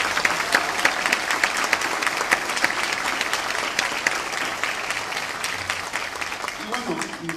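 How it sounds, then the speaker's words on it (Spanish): Crowd applause at the municipal DIF activity report in San Miguel de Allende, Mexico: many hands clapping in a steady, crisp patter for several seconds, with faint voices underneath near the end. "este gran equipo de Susy y Adriana, un fuerte aplauso y nuestro reconocimiento"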